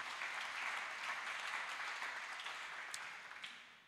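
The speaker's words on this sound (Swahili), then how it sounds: "Naomba tumshangilie Bwana kwa makofi." A church congregation at a worship service claps for the Lord in dense, sustained applause that stays loud and even, then thins slightly toward the end with a few sharper individual claps.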